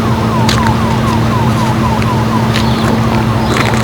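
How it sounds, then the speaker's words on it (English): Emergency vehicle sirens wailing through a flooded Grand Forks in 1997, a repeating falling siren sweep over a steady low hum and broadband background noise, with faint chirps layered on top. "Sirens have been going all night long."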